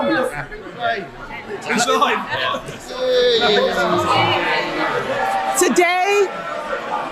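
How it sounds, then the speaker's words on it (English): Members of Parliament in the House of Commons chamber cheer and murmur in a loud, sustained hubbub of overlapping voices, with whoops and bellows rising through the din and no single speaker standing out. "They're all cheering."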